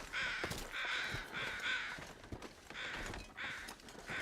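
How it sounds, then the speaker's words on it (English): Crows cawing loudly and repeatedly in The Long Dark, in bursts of harsh calls, close and prominent, with faint thuds and footstep-like sounds beneath. "I appreciate the crows are loud because so many bodies are in different spots now"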